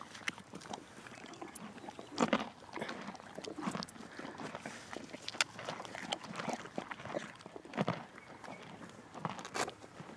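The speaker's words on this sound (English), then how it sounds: "Here's Harry appearing on YouTube, crunching away." A large deer crunches and chews a carrot close by, outdoors on a windless day, in irregular crisp bites and grinding chews that come in bursts between short pauses, fairly quiet.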